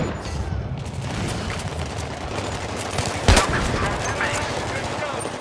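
Dense video-game gunfire from a competitive online shooter, a steady chaotic barrage of shots with one louder burst near the middle, with voices blended into the noisy mix.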